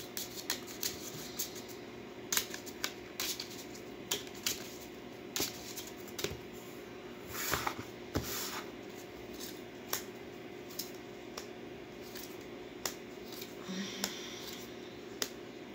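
Tarot cards being shuffled and picked, a series of soft papery snaps and flicks at irregular intervals, close and fairly quiet with no talk.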